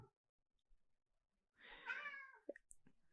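A pet cat gives one drawn-out, fairly close meow after near silence, followed by a few soft clicks and small noises, in a quiet room.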